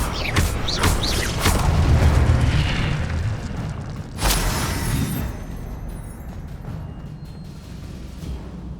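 An Incendio fire spell cast in the video game Hogwarts Legacy lands with a loud booming whoosh and crackling burst, a second sharp blast hitting midway, then a rumbling tail fading out.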